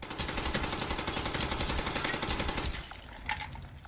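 Rapid automatic gunfire aimed at Steiner outside the boundaries of Rebirth Island in Call of Duty Warzone, a dense steady stream of close, loud shots that stops abruptly near the end, leaving a faint thump.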